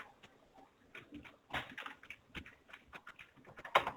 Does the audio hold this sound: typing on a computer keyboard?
yes